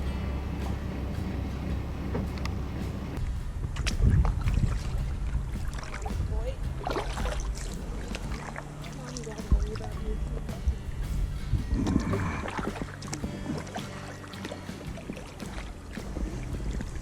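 A kayak paddle dips and strokes through the water of an inlet near Port Walter, heard up close as intermittent splashes and drips over wind and water noise, with voices talking quietly at times.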